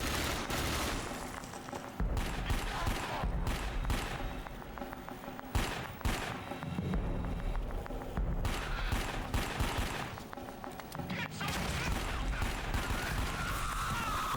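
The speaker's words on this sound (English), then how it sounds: "That machine gun just does not stop firing." A machine gun in the video game Dark Sector fires nonstop, loud dense bursts of gunfire rattling continuously for many seconds with only brief dips, crashes and mechanical clatter mixed in.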